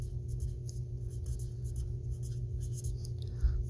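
Pen or pencil scratches quietly on paper as a number is written out in words, faint intermittent strokes over a low steady hum, with no talking.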